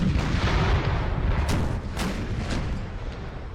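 Cannon fire from 12-pounder artillery in the strategy game Empire: Total War, a rolling battlefield rumble broken by several distinct booms about half a second apart, with no voice over it.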